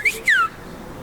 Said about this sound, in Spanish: a la del medio le silbo